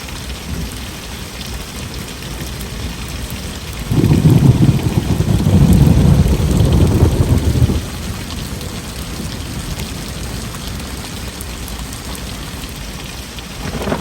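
Severe thunderstorm rolling over a rural property toward the mountains, with steady rain on surfaces throughout and a loud, low rumbling thunder swell in the middle before settling back to continuous rainfall.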